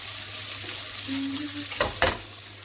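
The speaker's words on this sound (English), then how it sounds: "Now we're going to shallow fry them." Flour-dusted meatballs shallow frying in a pan give a soft, steady sizzle over a low hum, with a couple of sharper stirring or scraping knocks near the end.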